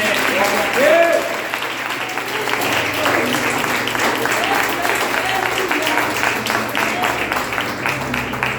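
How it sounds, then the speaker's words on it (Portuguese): A church congregation at a Sunday worship service breaks into steady applause that fills the room, dense and sustained, with a voice speaking over the start and a low hum underneath. "Aplauda o Senhor primeiro"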